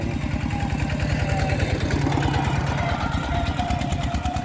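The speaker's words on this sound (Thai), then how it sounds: "นี่จะเป็นรถไถ" Tractor engine running, a loud steady low-pitched chugging with rapid regular firing pulses, close by and unbroken throughout.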